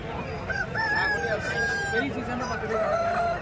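Roosters for sale at a market crow loudly and close by, with drawn-out calls overlapping amid clucking and murmured talk from people nearby.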